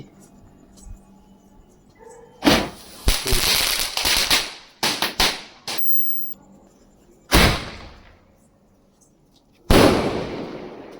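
Sky shot fireworks, from small to large, exploding one after another: a dense cluster of loud, sharp cracking bursts, then two separate heavy blasts with short crackling tails, nearby and alone.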